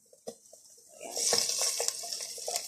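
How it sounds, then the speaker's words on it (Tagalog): Browned garlic is tipped into a pan of cooking malukeya and stirred, with a few clinks and taps giving way to a steady hiss and scraping of the spoon against the pan. "ang ating garlic ilagay na natin sa ating nilulutong"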